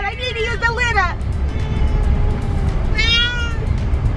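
A cat meowing inside a car on a long road trip, two drawn-out, wavering meows close by over the steady low hum of the moving vehicle.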